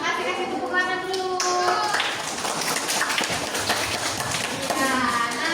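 Schoolchildren in a classroom clapping hands together, quick overlapping claps mixed with kids' voices and a teacher speaking over the noise.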